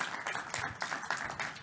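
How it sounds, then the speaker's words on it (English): Audience applause at the end of a conference talk on open camera software: a short burst of many people clapping together, fairly quiet and continuous. "Give yourselves a round of applause"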